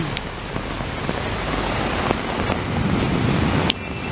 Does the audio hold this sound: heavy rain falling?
yes